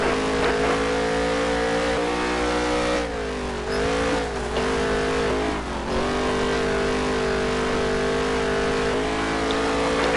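Super late model race cars roar around a dirt track at Taggart County Motorplex, engines loud and sustained with revving pitch swings as cars accelerate and pass close by, no talk.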